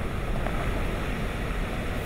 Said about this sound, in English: Those are rogue waves.